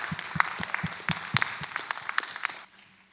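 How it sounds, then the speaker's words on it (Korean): A church congregation claps together during a Sunday morning worship service, steady brisk applause from a crowd that stops abruptly near the end, heard from a moderate distance. "우리 한 학기 동안 함께 하신 하나님의 은혜 영광의 박수 함께 올려드릴까요?"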